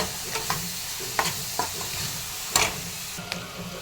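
Finely chopped onions fry in oil in a pan until golden brown, a steady close sizzle broken by several sharp scrapes and clinks as they are stirred.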